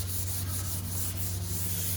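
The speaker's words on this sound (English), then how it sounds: "this is what I refer to as straight up hand sanding" Continuous rhythmic scratching of sandpaper rubbed by hand across a fiberglass car hood, steady strokes close up with a low hum underneath.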